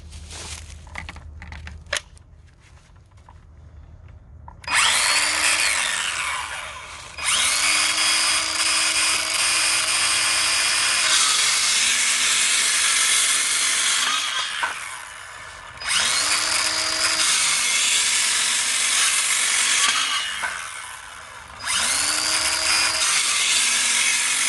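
A HART 20V cordless 6-1/2-inch circular saw spins up and rips through 2x4 lumber in several loud, close passes, the motor whine rising and dipping under load, with brief pauses between cuts and clicks of handling.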